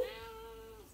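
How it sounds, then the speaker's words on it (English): A pet cat gives one long, drawn-out meow, close and clear in a quiet indoor room, with no talking. "Sorry, that's my cat, Misha."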